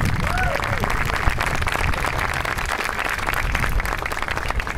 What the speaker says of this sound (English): Let's give Deborah a big round of applause.